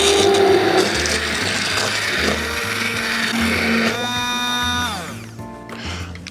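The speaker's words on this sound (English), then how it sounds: "So I'm going to use the stab blender." A heat-resistant stab blender runs in pea soup, a loud steady motor whir with churning liquid that holds for about five seconds, then winds down as the motor stops.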